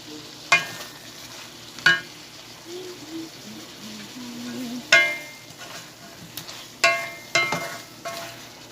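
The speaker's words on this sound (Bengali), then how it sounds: "পরে ঝোলটা দিব আর একটু তরকারিটা কষা হোক ঝোলটা দিব" Curry stirred and frying in a pan gives a low steady sizzle, broken by several sharp scraping clicks of the spoon against the pan at uneven intervals.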